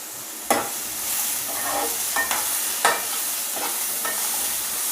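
Tomatoes, a carrot and onions sauté in hot oil, giving a steady broadband sizzle with a few sharp stirring scrapes and clinks near the start and middle, close and moderately loud with no talking.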